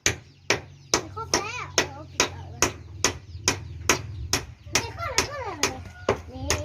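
A hammer strikes nails in a steady rhythm, about two blows per second, building a pen for newborn chicks, with voices chattering under the knocking.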